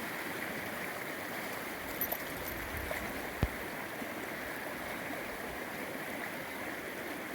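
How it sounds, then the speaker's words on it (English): The Blanco River running bank full at a permaculture farm, a steady, broad rushing of water that holds even and close for the whole stretch, with one faint knock partway through. "This is the Blanco River at Three Canyons Permaculture Farm, and it is bank full."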